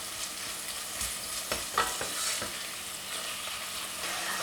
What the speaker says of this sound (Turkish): Kavrulan soğanlarımın üzerine yemeklik kıymamı ilave ediyorum. Ve şöyle birazcık kavuracağım.